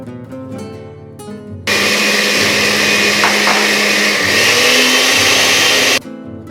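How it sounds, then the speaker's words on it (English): A blender roars loudly at high speed for several seconds while blending mole sauce ingredients, then cuts off abruptly, with faint background sounds before and after. "Let's get the blender set up here."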